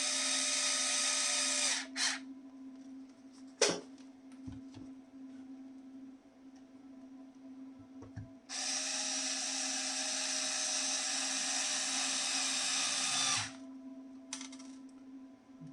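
Cordless power driver whirring in two long bursts as it runs screws into an ARRMA Typhon Grom RC truck, with short taps and clicks between runs and a steady hum underneath.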